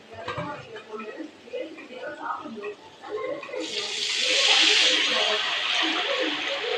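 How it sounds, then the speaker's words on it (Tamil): Tamarind water is poured into a cooking pan of sautéed tomatoes, a steady rushing splash that starts midway and keeps going, close and fairly loud, with a person talking beforehand and under it. "100 கிராம் புளியை வந்து சேர்க்க போகிறோம்."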